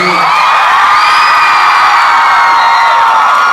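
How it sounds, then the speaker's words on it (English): A mall crowd at a live Q&A event cheers, whoops and shouts loudly and continuously, a dense wall of voices close by that holds steady throughout. "Make some noise one more time for these guys."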